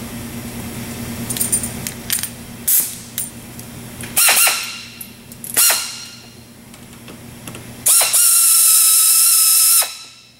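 Tools loosening hose clamps on a MasterCraft boat sea strainer, with close metallic clicks, ratcheting bursts and scraping scattered over a low steady hum, no voices.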